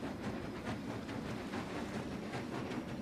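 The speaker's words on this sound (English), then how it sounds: "While the train goes through" A train rolls across a bridge in the video game Bridge It, a quiet steady rumble with faint rhythmic clacking of wheels, soft and continuous with no talking.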